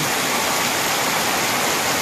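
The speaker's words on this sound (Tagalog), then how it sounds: "Malakas ang ulan." Heavy afternoon rain in a rural Philippine village pours in a steady, dense roar with no pauses, loud and close, filling the whole moment without any voices.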